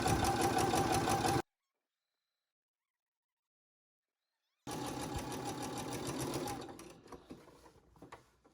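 A sewing machine runs in two bursts of rapid, even stitching with a silent gap between, back stitching at a fabric corner before slowing to a stop.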